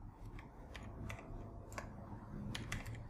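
Keystrokes on a computer keyboard entering a command in a Windows 11 command prompt, a few quick clustered taps with short pauses, close and fairly soft over a low steady background hum.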